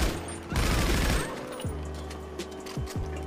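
Gunfire in GTA 5 Online, a video game: a short burst of rapid shots fired while shooting around in the street, loud and close, followed by a few single reports over a steady low hum.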